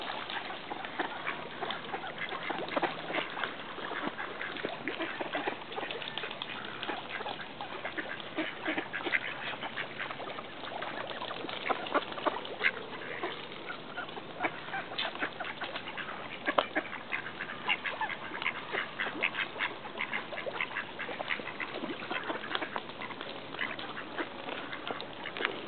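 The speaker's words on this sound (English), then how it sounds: "All the duckies eating." Ducks quack steadily while feeding, a dense flock of overlapping calls close by with faint water splashing underneath and no talk.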